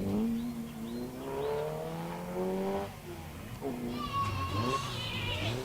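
A vintage sports car powers out of a wet corner at Wiscombe Park hillclimb, its engine note rising steadily over several seconds at moderate distance, with a commentator talking over it throughout.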